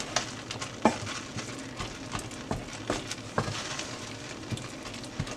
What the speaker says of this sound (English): And just keep stirring.